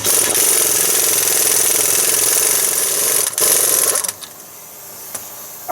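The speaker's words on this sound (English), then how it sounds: "in this case, I'm going to cheat and use my impact wrench." An impact wrench loosens wheel hub bolts on a 2014 Silverado or Sierra front end, a loud close rattling hammer burst lasting several seconds before cutting off into quieter clanks.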